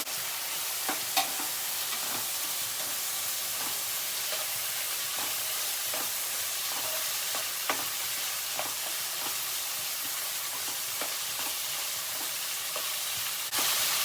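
Red and green capsicum, half a kilo, frying in a pan for potato curry: a steady sizzle with scattered clicks and scrapes of stirring, close and continuous, no talking.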